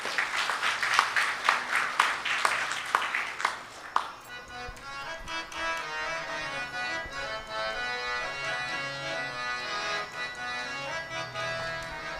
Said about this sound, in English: Please welcome these young ladies with a hearty round of applause